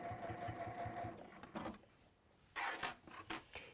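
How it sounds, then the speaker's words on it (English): A sewing machine stitches through bag fabric in short runs, its rapid mechanical whirr starting and stopping several times up close, with brief pauses between bursts. "this is quite nice and easy to sew through"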